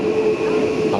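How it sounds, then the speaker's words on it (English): A train pulls into a station, its steady rolling rumble and rail noise filling the clip loudly and continuously, with a faint high squeal riding over the top. "Got another train coming in."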